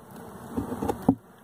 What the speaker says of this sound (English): Hello, nice bees.